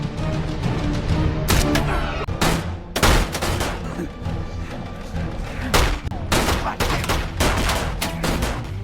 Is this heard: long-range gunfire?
yes